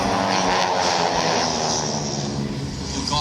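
Aeroshell aerobatic team aircraft fly at an airshow in Vidalia, Georgia, their engines giving a steady, loud drone that fills the whole stretch without a break.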